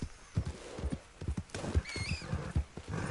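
A horse in Red Dead Redemption 2 clip-clops along in a steady rhythm of hoofbeats, close and moderately loud, and partway through lets out a short whinny over the footsteps.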